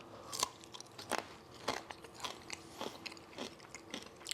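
Crunchy bacon bitten and chewed up close, a series of sharp crisp crunches roughly every half second with no talking.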